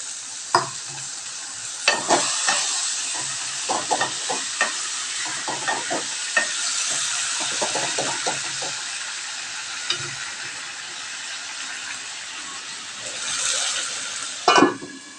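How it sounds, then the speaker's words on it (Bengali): A pan of cooking food after a little water has been added, with a steady sizzling hiss throughout and repeated scraping strokes of a spoon stirring, plus a few sharper knocks against the pan. "এই যে জলটা একটুখানি আমি অ্যাড করে দেবো।"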